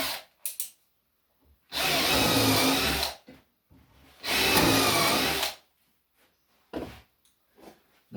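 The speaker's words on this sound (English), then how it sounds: "my next drill bit will allegedly go in the middle of the hole and go in further" Drill bit boring into wood while building a shaving horse, two loud sustained bursts of drilling about one and a half seconds each, separated by quiet pauses with small handling clicks, close up.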